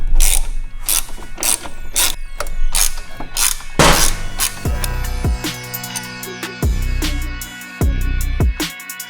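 Ratchet with a long extension arm working loose a clutch bolt on a Harley-Davidson during a clutch basket install: rapid repeated clicking pawl bursts, close and loud, with metallic clanks between strokes and no talk.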